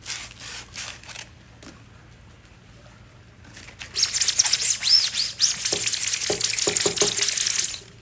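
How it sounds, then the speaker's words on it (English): Sandpaper of 100 grit rubbing over a 3D-printed rocket part, a dense continuous scratchy hiss in steady strokes, close and fairly loud after a quieter opening with a few light taps. "just the main 100 grit sandpaper, is just mainly to level"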